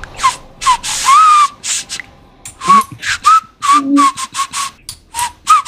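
Repeated attempts at whistling, a series of short breathy whistled notes and airy puffs in an uneven rhythm, some thin and wavering, close to the microphone with no talk.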